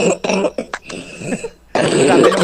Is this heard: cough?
yes